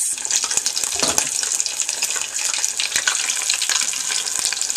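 Panko-breaded shrimp fry in a pan with a steady, dense crackling sizzle that holds throughout at close range, with a few brief clicks and stirring sounds on top.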